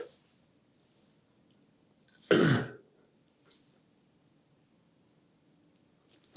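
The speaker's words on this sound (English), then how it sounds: "A loud cough." A single loud cough bursts out close to the microphone in an otherwise hushed ASMR session, a short sharp burst of about a third of a second surrounded by near silence.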